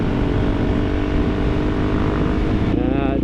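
A KTM 690 single-cylinder dual-sport motorcycle pulls hard in a low gear on an overtake, its engine roaring loud and steady over wind rush, with the pitch shifting near the end as a gear changes.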